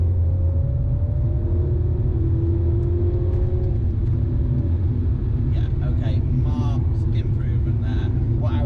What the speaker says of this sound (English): let's just drop it down to third, 45 miles an hour and flooring it